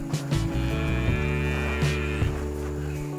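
A water buffalo of the kerbau bulan type, kept on a breeding and fattening farm, gives a long, steady, close moo that holds for about three seconds.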